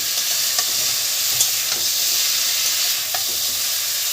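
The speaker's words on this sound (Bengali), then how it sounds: "ব্রোকলিগুলো দিয়ে দেবো তো ভালোভাবে কষিয়ে নিয়ে জল দিয়ে দেবো" Potatoes and broccoli stir-frying in a pan, a steady close hiss of sizzling oil with occasional soft scrapes and clicks from stirring, no voices.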